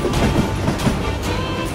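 A train rolls along the rails in the video game Call of Juarez: Gunslinger, giving a steady close rumble with faint rhythmic clacks of the wheels.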